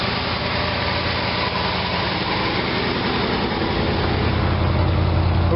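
The engine of a 1957 GMC 370 Wayne bus runs steadily after a cold start, a loud, even mechanical drone with a constant throb and no voices.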